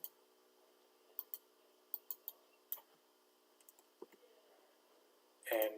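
Computer mouse clicks on a desk while working in Kredily admin software: a scattered run of about a dozen sharp, quiet clicks at uneven intervals, ending in a short louder rustle.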